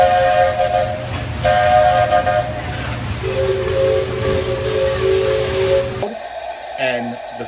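A custom train sound system plays a high-pitched, loud 3-chime Buckeye steam whistle: two short blasts, then a longer held chord, cut off abruptly near the end, with faint hiss around it.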